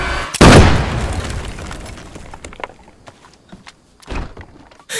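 Explosive detonation in the video game DayZ, a sudden loud boom near the start followed by rumbling debris and scattered crackles, with a second thump near the end.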